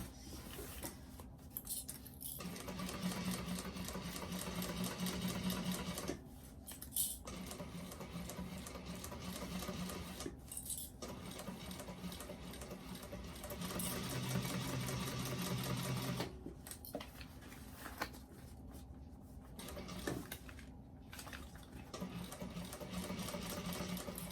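A sewing machine stitches a bag, running in steady bursts of rapid mechanical needle chatter that stop briefly between runs, close and fairly loud throughout.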